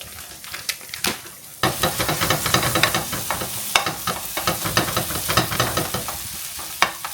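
Beans fry in hot chorizo oil with a continuous loud crackling sizzle, broken by frequent scraping and stirring strokes of a utensil, heard up close and without any voices.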